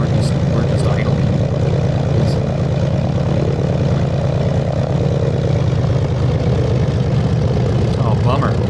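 A Zlin Z-142 aerobatic propeller plane idles in a flight simulator, its engine giving a loud, constant low throbbing drone with a fast, even pulse and no letup.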